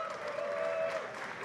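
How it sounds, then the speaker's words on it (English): A boxing-night crowd gives a short burst of steady applause for an unbeaten fighter introduced ringside, dense clapping with a faint tonal hum underneath. "please give him a big round of applause"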